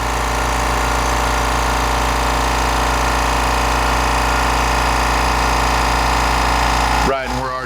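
A Stealth 2 gallon ultra-quiet jobsite air compressor runs to refill, a loud, steady motor drone close by that holds for about seven seconds and then cuts off abruptly.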